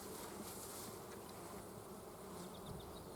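Honey bees hum in a dense, continuous buzz around a hive frame, close and steady for the whole moment, with no talk over them.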